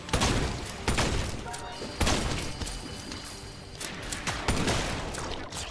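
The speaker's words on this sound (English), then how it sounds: "These stun grenades are kind of nuts, it turns out" Stun grenades going off in the video game Wizard With A Gun: a rapid string of loud, sharp bursts and thumps, with several clustered blasts recurring across the stretch and dense crackling in between.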